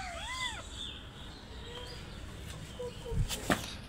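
A stray kitten gives a couple of clear rising-falling meows early on, fairly close, followed by faint rustling, a few bird chirps and some sharp knocks near the end.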